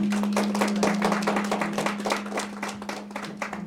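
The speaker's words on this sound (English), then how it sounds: "let's give Jocelyn a round of applause" Audience applause for a contestant at a 5th and 6th grade school spelling bee, a steady burst of many hands clapping together that gradually thins and fades toward the end.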